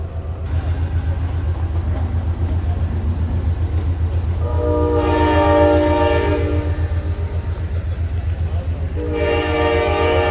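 Loud rumbling Amtrak California Zephyr train with two long horn blasts sounding over the steady engine noise, the second starting near the end.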